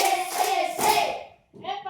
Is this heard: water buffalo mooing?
no